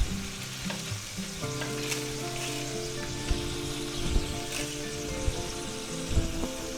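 Sliced ham fries in an oiled pan, a bright, close sizzle with spatula scrapes and a few sharp knocks against the pan, no voices.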